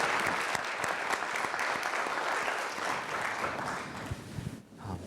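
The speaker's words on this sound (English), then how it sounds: "I just would like to ask everyone to join me in another round of applause for the whole panel" A conference audience at a pancreatitis patient-focused drug development meeting gives the panel a round of applause. Dense, continuous clapping runs throughout at an even level and dips briefly near the end.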